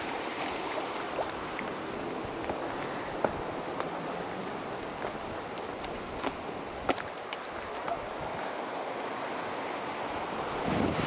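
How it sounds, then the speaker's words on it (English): Ocean surf on the Redwood coast as the tide comes in, a steady broadband wash of breaking waves that holds its level throughout, with wind buffeting the microphone and a few faint clicks. "Tide's coming in."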